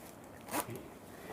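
A zipper on the sleeve cuff of a Polo jacket is pulled in one quick, soft rasp that rises briefly out of a quiet, hissy background.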